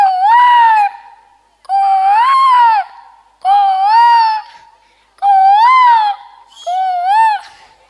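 A performer at a school celebration imitates a cuckoo with five loud, close, rising whistled calls, each lasting about a second and separated by brief pauses.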